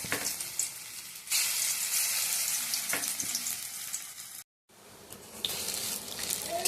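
Flattened bora fritters fry in hot mustard oil in a wok, a loud continuous hiss and crackle that jumps up as more batter goes in, with a brief silent gap before the sizzling resumes.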